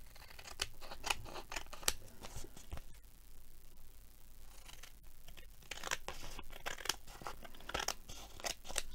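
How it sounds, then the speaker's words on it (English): Quiet, close-up snipping and crunching of scissors cutting material, a flurry of short cuts, a pause, then more cuts. "Not those scissors,"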